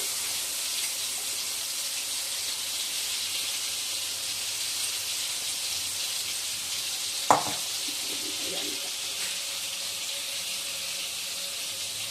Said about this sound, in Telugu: ఈ పేస్ట్నంతా మంచిగా ఫ్రై చేసుకోవాలి పచ్చి వాసన దాకా ఫ్రై చేసుకోవాలి